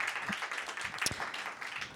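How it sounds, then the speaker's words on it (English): An audience at a music and video event applauds, a fairly quiet, continuous patter of clapping with a brief sharper burst near the middle. "All right, one more round of applause"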